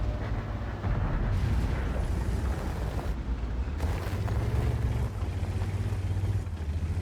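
Heavy cannon blasts from a T110E4 tank destroyer in a tank video game, firing gold penetrating rounds: dense, loud booming roars fill the whole clip with rumbling low end and brief dips between shots, no voices.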